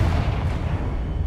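A Confringo blasting spell goes off in a Hogwarts video game, a loud, dense rumbling blast that fills the whole moment with low booming energy.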